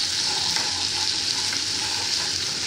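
Mushrooms and onions frying with light soy sauce in a pan, a continuous close hiss and sizzle at even loudness with faint stirring, no talking.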